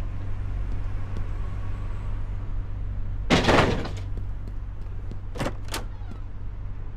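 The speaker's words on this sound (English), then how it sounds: "so we're gonna bust down the door" Paramedic breaking down a house door in the game Flashing Lights: one loud crunching impact, followed by two short sharp knocks, over a steady low hum.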